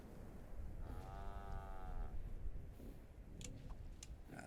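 A cow in the video game Fallout 76 lets out a single drawn-out, low moo over a steady background rumble, followed by a few sharp clicks.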